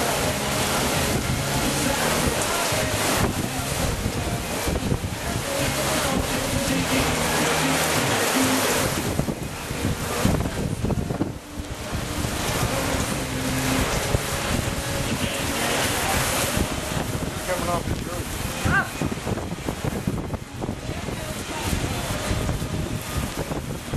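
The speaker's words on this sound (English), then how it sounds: "The wind," Strong wind gusts during a thunderstorm near a pond roar continuously across the microphone, a loud broadband rush that swells and eases slightly throughout, with no clear talk.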